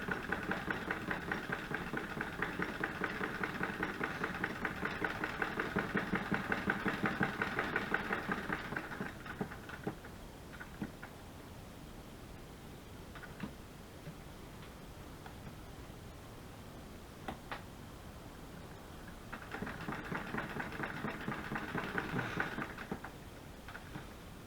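A sewing machine stitches a junk journal tag with white thread, running in a steady mechanical hum for several seconds, pausing amid faint handling clicks, then buzzing again in a shorter burst; fairly quiet and close.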